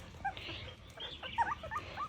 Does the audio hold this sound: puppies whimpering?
yes